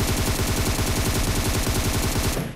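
Automatic gunfire in PUBG Mobile rattles in one loud, rapid, unbroken burst of closely spaced shots that lasts over two seconds before cutting off abruptly.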